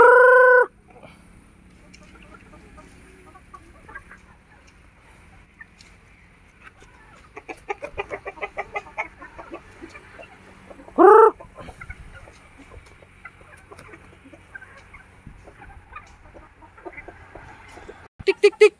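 Chickens on a farm cluck and call at close range in scattered bursts, with one loud crowing-like squawk midway and sharp clucks near the end. Faint background noise sits underneath.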